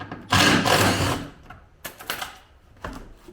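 Close mechanical whirring and clicking as screws are backed out of a Yamaha motorcycle's headlight trim with a star bit, a long burst followed by two shorter bursts.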